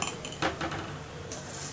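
A spoon scrapes and clinks against a pot as cashews and raisins are stirred into sweet potato kheer, making a few short metallic knocks and scrapes. Nobody speaks.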